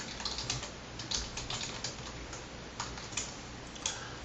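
Java code being typed on a computer keyboard, steady clusters of light key clicks with occasional louder taps over a faint low hum, close and with no talk.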